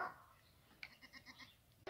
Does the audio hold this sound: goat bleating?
yes